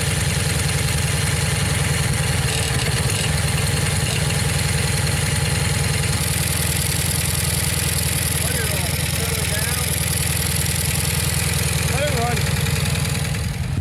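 Old Craftsman riding lawnmower with a water-damaged 10hp Tecumseh engine, running down on power and backfiring, idles in a steady, loud, low rumbling throb close by, with faint talk over it.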